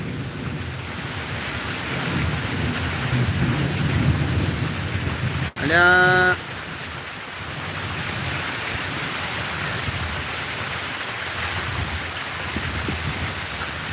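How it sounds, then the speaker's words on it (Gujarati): Steady, heavy rain roars throughout in Anand, broken midway by a single sharp crack of lightning and a brief spoken word. "આણંદમાં ફૂલ વરસાદ પડ્યા"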